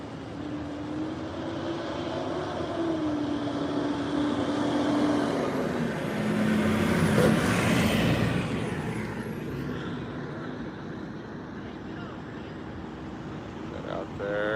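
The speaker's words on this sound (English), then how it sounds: "So here comes another fire truck." Fire truck arriving at a truck fire near Hoover Dam: a heavy engine rumbles and swells as it passes close, with a rising and falling siren-like tone, while people talk over it.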